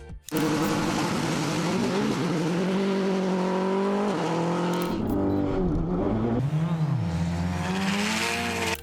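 A Mitsubishi Evo VIII and a Subaru Impreza WRX STi, four-wheel-drive turbo cars, roar along a twisting road, engines revving up and down with shifting gear tones, loud and continuous throughout.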